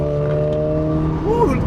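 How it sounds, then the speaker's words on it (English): A modified Renault Clio RS 220 Trophy hot hatch with a steady engine drone, then a short, whistling turbo sweep that rises and falls near the end. "Ooh, turbo whistle."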